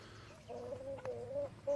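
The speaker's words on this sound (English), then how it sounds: "This is Earl, my Barred Rock rooster" Barred Rock rooster in a backyard pen, giving a short series of low clucks and throaty calls close by and fairly quiet, with no talk.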